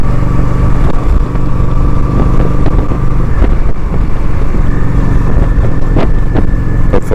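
A Honda Shadow 750 motorcycle rumbles loudly and steadily as it is ridden, with a continuous engine drone, faint shifting tones and buffeting throughout, and no voices.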